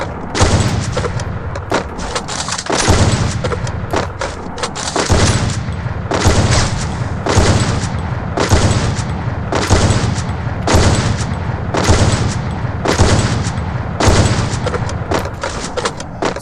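Loud video game gunfire in rapid repeated bursts, an automatic weapon firing as a macro switches weapons, with regular bursts and brief gaps continuing for the whole stretch.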